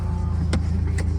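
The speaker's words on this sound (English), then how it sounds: "So I've let my car warm up" A drift truck's engine idles while warming up, a low steady rumble with a regular pulse and a couple of faint ticks over it, close and fairly loud in a short stretch.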